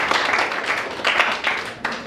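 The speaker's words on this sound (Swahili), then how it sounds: "So tujipigie makofi" An audience applauds at a graduation ceremony, with steady dense clapping from many hands sustained for a couple of seconds, fairly near and full.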